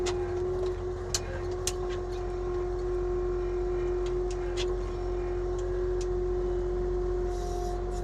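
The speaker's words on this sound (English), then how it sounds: "So I'll just take the machine back to where it's usually parked," An Avant compact loader driven slowly across a construction site, its engine giving a steady, even drone with a constant tonal hum and occasional faint clicks, close and unbroken, with no voices.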